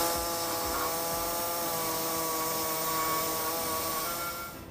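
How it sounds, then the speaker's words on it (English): A pneumatic air saw cuts notches into the steel frame of a 2017 Ram 1500 pickup during a front-mount trailer hitch installation, a loud, steady buzzing whine running unbroken close by before easing off at the end. "What I'll be using is a air saw to notch out the sides on the hole there"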